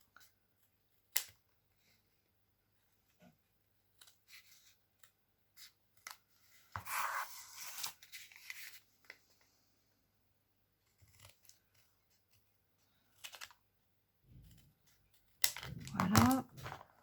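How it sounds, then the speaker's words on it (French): Scissors cut away the excess part of a small recycled cardboard box, giving a few scattered snips and crunching cuts, with two longer bursts of cutting around the middle and at the end, close and fairly quiet. "Ensuite, on va couper la partie en trop."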